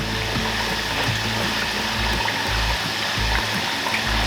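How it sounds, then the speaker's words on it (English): Orange juice trickles and splashes into a pot of carnitas as the fruit is squeezed, a steady close liquid stream over a low hiss and intermittent low hum. "Squeezing in some orange."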